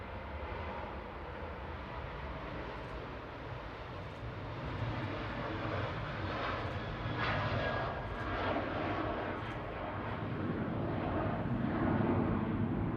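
TUI Boeing 737-800 at Manchester Airport, its engines giving a continuous low, rumbling jet roar that builds gradually over the stretch, with no voices.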